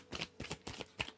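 Tarot cards riffled in a quick series of crisp, papery shuffles, four bursts close to the mic with no voice over them.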